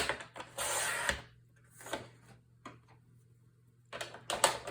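White paper being cut to size on a paper trimmer for a handmade mini album, giving a few close, brief scraping and sliding bursts separated by quiet pauses.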